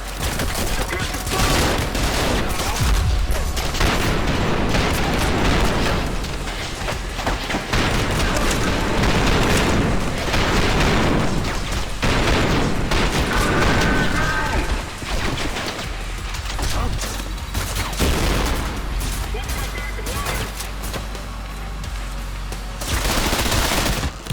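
Heavy, powerful gunfire from the video game Trepang2, loud repeated booming shots and bursts packed closely together over a long stretch, with occasional talking underneath.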